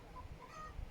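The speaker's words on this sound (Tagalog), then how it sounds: "may manok din sa kabila guys. May manok sa kapitbahay." A chicken clucks at a neighbouring property close to a backyard barbecue grill, a few short calls rising over steady low background noise.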